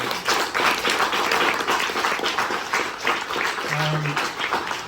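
Audience applause at a book launch in a bookshop, steady dense clapping from a crowd that runs loud for the full stretch, with some voices mixed in underneath.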